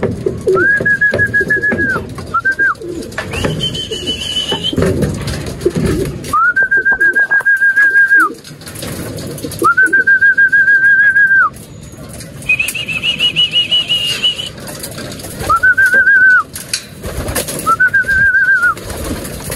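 Racing pigeons coo repeatedly in rising, wavering calls, with bursts of wing flapping and a busy background of flock noise as they return to the loft during a summer derby race.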